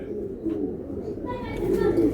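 Pigeons coo in soft, low, throaty rolls nearby, with a fuller call toward the end, while a person talks over them.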